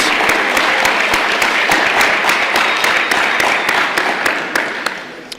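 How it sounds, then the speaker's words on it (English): Newly elected Boys State House and Senate delegates applaud themselves in a general session hall, dense clapping with some sharp individual claps standing out, loud at first and tapering off toward the end. "go ahead and give yourselves one more round of applause for getting elected to House and Senate"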